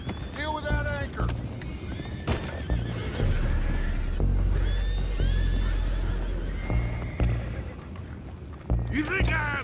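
Horses neighing and whinnying in the Red Dead Redemption 2 video game, several loud close whinnies at the start and end with hoof clip-clop and a low rumble beneath, while characters talk over them.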